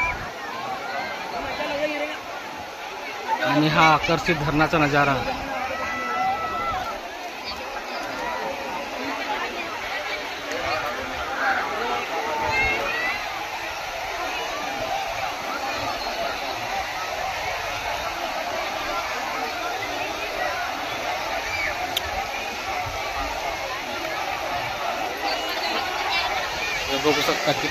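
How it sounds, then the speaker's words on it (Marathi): Crowd of visitors chattering at Makardhokada dam near Umred, a continuous distant babble of many voices with water-like background noise, under a nearby narrator's voice. "लोकांची गर्दी"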